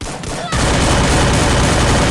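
Dense, continuous gunfire from the mobile battle-royale video game Free Fire, starting softer and then swelling into loud sustained rapid shooting that fills the whole stretch without a break.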